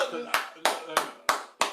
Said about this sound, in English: let me clap that shit